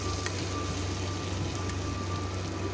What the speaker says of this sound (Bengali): মশলাটাকে আমি ভালো করে ভেজে নেব, যাতে কাঁচা রসুনের গন্ধ না বের হয়